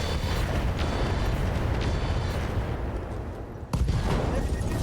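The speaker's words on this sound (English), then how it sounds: "LRM ammo explosion finishing him off" LRM ammunition cooking off and destroying a mech in the game RogueTech, a rumbling, crackling explosion that tails off and then jolts back with a sharp second blast.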